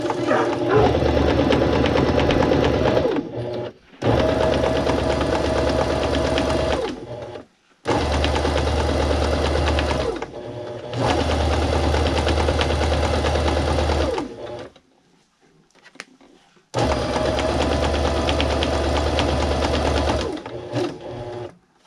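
A sewing machine stitches through a thick double gun case in long loud runs of steady mechanical whirring, stopping briefly several times between bursts.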